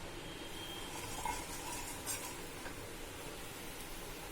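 Cumin seeds spluttering in hot oil in a pan on a gas stove, a faint, steady sizzling hiss with a couple of small pops, no voices.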